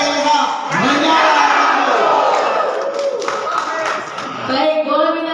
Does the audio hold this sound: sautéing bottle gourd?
no